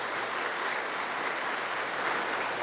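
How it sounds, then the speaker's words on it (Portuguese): Steady applause fills a Sunday church service after a call to clap for Jesus, a dense continuous wash of clapping from a congregation with no voices standing out. "dê uma forte salva de palmas para o Senhor Jesus"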